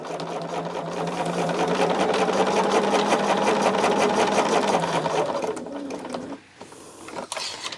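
A sewing machine with its dual feed foot engaged stitches cotton quilt block fabric, running at a fast, steady mechanical hum for about five seconds. It then slows and stops, leaving a few light clicks and handling noises.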